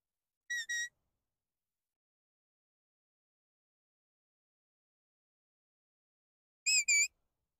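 Two short pairs of high, clear whistle blasts from a sheepdog training whistle used on a border collie, one near the start and another about six seconds later, with silence in between.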